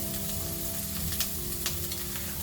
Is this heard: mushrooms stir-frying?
yes